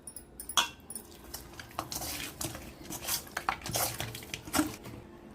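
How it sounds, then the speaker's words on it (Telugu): Chicken biryani marinade with fried onions and yogurt being mixed in a bowl at home, irregular clinks and scrapes of a spoon against the dish with soft wet squelches, close and fairly quiet. "బాగా కలుపుకుందాం"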